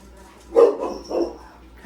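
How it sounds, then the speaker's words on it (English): Two muffled dog barks sound from a short distance, soft and rounded, with quiet background between them. "Sorry, family and friends, for the dogs barking"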